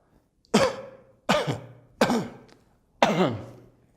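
Four forceful coughs, close up, spaced evenly about a second apart with short silences in between.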